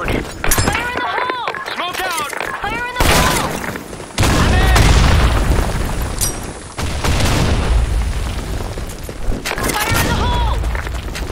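Grenade blast and gunfire in the shooter game Blackshot, loud and dense, with several heavy booms and bursts of shots mixed with game voice callouts.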